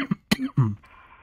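Two or three short, throaty coughs close up, with a brief throat-clearing rasp, then quiet.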